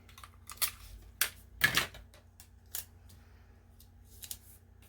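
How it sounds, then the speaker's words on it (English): Sticky tape pulled from a roll and pressed down at a desk, with a few short crackling rips and scattered light taps, close and quiet. "I'm just going to use some tape"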